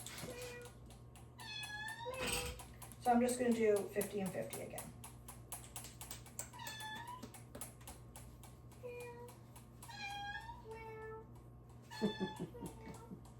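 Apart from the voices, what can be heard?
cat meowing for a treat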